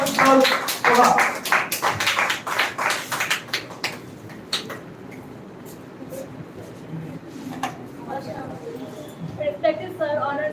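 Event audience applauds as a speaker is introduced, a few seconds of near, loud, brisk clapping that thins out, followed by someone talking.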